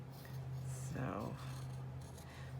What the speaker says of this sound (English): I'm just going to cut this off.